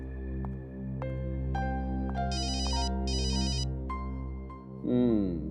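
A mobile phone ringtone plays a repeating melodic electronic tune with bright warbling bursts, close and clear over a steady low hum, during a CID crime-drama scene.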